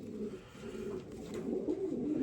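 Young pigeons, a batch of 2025 squabs, give low, continuous cooing close by, a soft rolling murmur that builds slightly toward the end.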